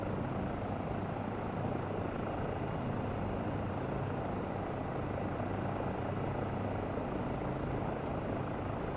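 Eurocopter EC135 helicopter in Microsoft Flight Simulator 2024, a steady, continuous rotor and turbine drone holding at an even level throughout while descending toward a landing pad, with no talk.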